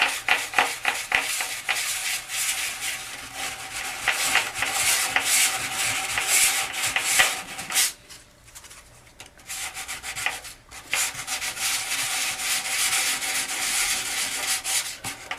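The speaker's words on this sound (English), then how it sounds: "I have to do more sanding to get it flat" Steady, close abrasive rubbing of hand sanding on a lumpy Suncure resin piece being flattened, rhythmic back-and-forth strokes with two brief pauses, no speech.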